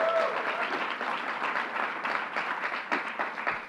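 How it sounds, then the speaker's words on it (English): Audience applause after a speaker is praised at a New York City announcement by the governor, a steady wash of many hands clapping at moderate distance, sustained through the whole stretch with a few sharper claps standing out. "Let's give Kristen another round of applause."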